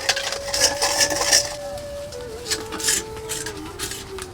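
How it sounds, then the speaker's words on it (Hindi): Dishes, pots and utensils are being washed by hand in a village home, with steady clattering and scraping of metal vessels and a few sharper clinks over a continuous background hum. "भौजी अहाँ बर्तन मजे छे"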